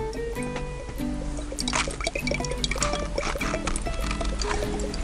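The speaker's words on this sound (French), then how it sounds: "le jus est en train de couler." Coconut juice trickles and drips into a cup in a kitchen, with steady liquid splashing and pouring sounds at close range, alone without talk.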